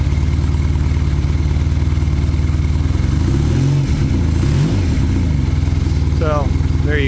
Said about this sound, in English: The bike runs really well.